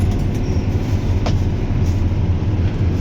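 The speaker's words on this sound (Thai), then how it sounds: "มีรถไฟ" A train rumbles past close by in a steady, heavy low drone, loud and continuous with a faint metallic squeal partway through and no talk.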